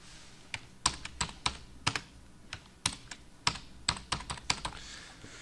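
Keystrokes on a computer keyboard in a quiet room, a dozen or so uneven clicks and taps in irregular bursts, close and crisp with no talk.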